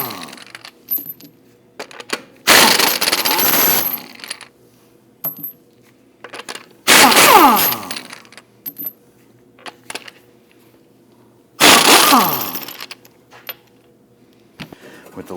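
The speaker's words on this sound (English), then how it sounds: "Using a 19mm socket, we want to get loosen and remove the lug studs" Impact wrench with a 19mm socket spinning off lug nuts from a Volvo XC60 front wheel, three loud buzzing bursts of about one to two seconds each, separated by quieter clinks and handling noises.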